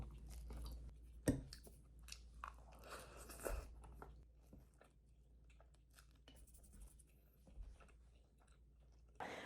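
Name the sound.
chewing scrambled eggs with garlic chips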